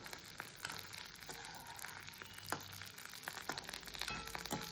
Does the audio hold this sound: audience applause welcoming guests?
no